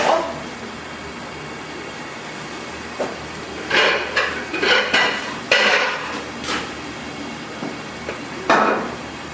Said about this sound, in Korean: 자, 숙주는 가운데 한번 살짝 저어주고요